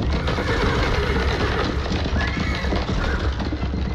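A horse-drawn coach thunders down a road in a dense, loud rush of pounding hooves and rumbling wheels, with a horse neighing over the din.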